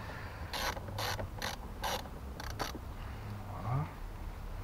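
A ratchet clicks in several quick bursts while loosening the battery fastening on a Mercedes A-Class W176, close and fairly quiet, followed by a softer mechanical scrape.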